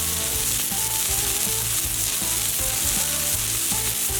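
Burger balls with shaved sweet onion on top sizzle on a hot griddle for smash burgers: a loud, close, continuous frying crackle with no pauses.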